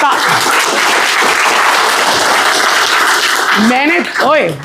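Applause breaks out as Class 10 board exam marks are revealed, a loud, steady wash of clapping that runs throughout, with a voice cutting in near the end.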